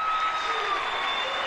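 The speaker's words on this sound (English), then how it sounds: "The crowd goes up." A crowd at an under-18 Australian rules football grand final roars and applauds after a goal, a dense, sustained wash of cheering and clapping at steady loudness.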